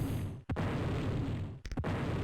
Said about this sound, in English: explosion, boom,